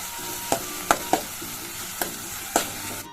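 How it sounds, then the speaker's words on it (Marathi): Tomatoes with a pinch of salt frying in hot oil while being stirred, a steady sizzle with half a dozen crisp spoon knocks against the pan at uneven intervals. "हलवायचं मिठाला कारण लवकर टमाटो मेल्ट होण्यासाठी तेलामध्ये चांगलं फ्राय होण्यासाठी"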